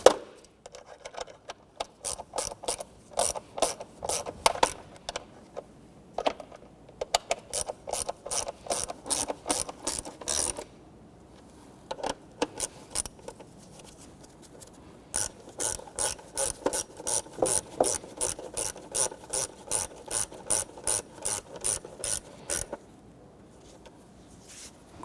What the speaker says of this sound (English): we'll go ahead and snug down our upper bolts here